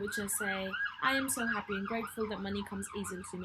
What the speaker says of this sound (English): I'm so sorry about the siren.